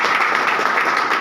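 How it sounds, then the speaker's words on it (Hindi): An audience at a business gathering breaks into loud, dense applause, a continuous wash of clapping that holds steady through the short burst. "मैं चाहूँगा IMC के लिए जोरदार ताली होना चाहिए"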